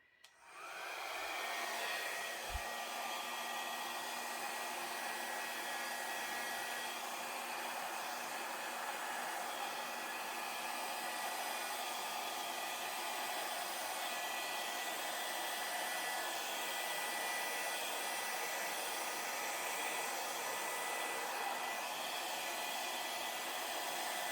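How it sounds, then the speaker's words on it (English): A hair dryer runs steadily on a low setting over acrylic paint during fluid art pouring, a constant close whooshing hum from start to finish with no voices. "My little hair dryer set on low."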